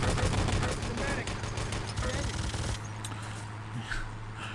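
Machine gun fire in the Enemy Territory video game, a steady rapid stream of loud shots during a Gold Rush map match, cutting off partway through, with a commentator talking over it.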